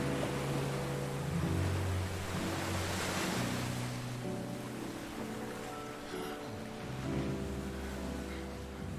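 Ocean waves roll and break on a sandy shore in Final Fantasy XVI, a steady wash of surf with wind, continuous and fairly close, no voices.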